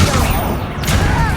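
A Confringo blasting spell explodes during Hogwarts Legacy combat, a dense rumbling burst with a short gap before a second blast, loud and close amid constant battle noise.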